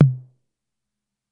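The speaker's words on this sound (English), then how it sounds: "Low tom." A single low tom hit from a Behringer RD-6 analog drum machine, a deep, booming thump that decays within about a third of a second and is followed by silence.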